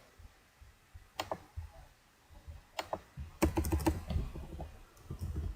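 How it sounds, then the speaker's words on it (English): Fast bursts of typing on a computer keyboard, nearby clicking keystrokes coming in clustered runs with short pauses, recorded alone in a quiet room. "let's just type it down here"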